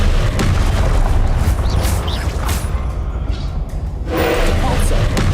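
Spell blasts go off in the video game Hogwarts Legacy, loud booming bursts and whooshes packed close together over a continuous game soundscape, with a voice speaking through them.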